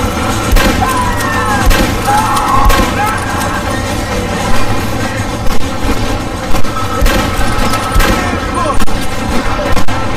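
Gunfire in the Red Dead Redemption video game, a dense ongoing fusillade of shots with booms over constant background noise, loud and continuous.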